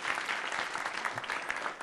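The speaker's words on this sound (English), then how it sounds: "you can clap for the audience that has just joined us" An audience claps through a live leadership forum event on health, with steady dense applause from a crowd, loud and continuous throughout.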